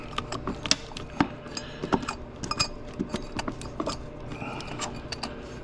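Metallic clicking and ratcheting from a wrench working a bottom bolt loose on a GM 3.8L supercharged engine's water pump: irregular close taps and clinks over a low mechanical background, no talking.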